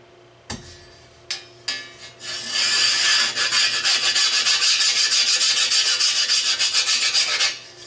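Rusty metal is rubbed hard to work the rust off for a friction fire roll, starting with a few sharp knocks, then a steady rhythmic rasping scrape that runs loud and close for several seconds before stopping abruptly.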